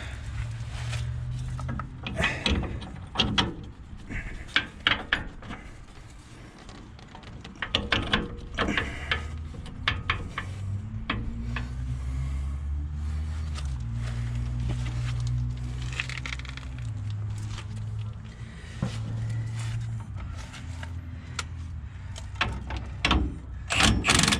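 An impact wrench drives in a 2-inch Rough Country leveling strut on a 2016 RAM 1500 4x4, hammering in rapid rattling bursts separated by short pauses, close and loud over a workshop background.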